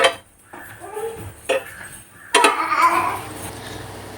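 A spatula scrapes and clinks against a pan while bread slices toasting for a sandwich are flipped, a few sharp metallic knocks followed by a soft frying sizzle, close and fairly loud.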